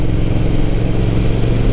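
A motorcycle engine pulling hard uphill on the Hakone Turnpike in Japan, a loud, close, steady droning roar with a gritty texture and no talk over it.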